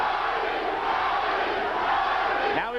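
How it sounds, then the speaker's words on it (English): Crowd at a boxing match between Arturo Gatti and Wilson Rodriguez, roaring and chanting a fighter's name in a loud, sustained wall of voices. "Crowd chanting, Gatti, Gatti, Gatti."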